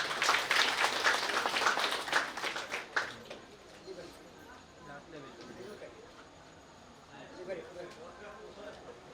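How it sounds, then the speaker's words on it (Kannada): An audience at an evening stage programme claps loudly for about three seconds, then the applause dies away, leaving faint background murmur and a voice speaking. "ಅವರಿಗೆ ಒಂದು ಜೋರಾದ ಚಪ್ಪಾಳೆ"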